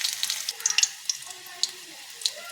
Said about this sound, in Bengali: প্রথমে তেলের মধ্যে কাঁচা লঙ্কা চিড়ি দেব,